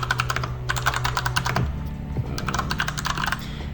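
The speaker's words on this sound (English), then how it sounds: "I'll just type it out." Clattering keystrokes on a computer keyboard, with fast bursts of clicks and brief pauses between them, loud and close, with no talking.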